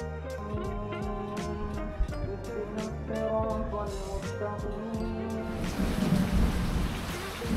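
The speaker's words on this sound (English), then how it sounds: "The next morning started with some rain" Steady rain falls on surfaces on Dhigurah island in the Maldives, with a rumble of thunder building toward the end and the downpour intensifying, constant and enveloping with no voices.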